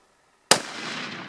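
A single sharp rifle shot cracks out during a Cape buffalo hunt in Africa, loud and close, followed by a long rolling echo that fades over the open landscape.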